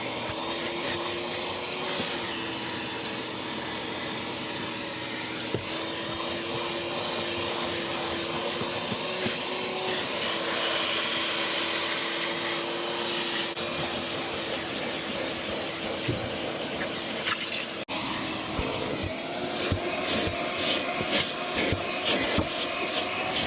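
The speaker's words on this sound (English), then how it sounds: "Let's start vacuuming." Vacuum cleaner running continuously while cleaning a car interior, a loud steady whine and rushing airflow that rises and shifts as the nozzle moves, with occasional rattles and clunks of debris and tools.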